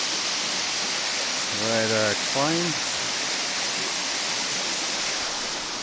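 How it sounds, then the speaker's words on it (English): A big waterfall at a gold-prospecting claim near Canvastown roars as a steady, loud, broadband wash of water throughout, while someone speaks briefly partway through. "having a look at the big waterfall"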